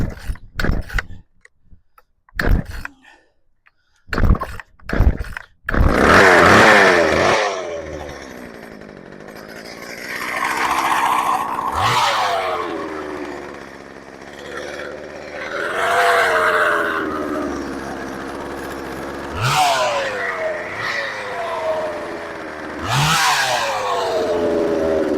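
A chainsaw more than 40 years old, choke just reset, cranks with a few pull-start rattles, then catches and runs loudly, its engine surging and revving in repeated waves close by.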